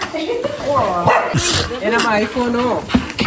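A dog barks and whimpers nearby in short yips while a person speaks over it.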